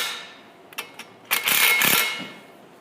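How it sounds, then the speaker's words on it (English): An impact wrench draws radius arm bolts down on an Early Bronco. A few light clicks come first, then a close, loud rattling burst of about a second, with no talk. "impact opposite corners together until you can get to the next series of bolt length"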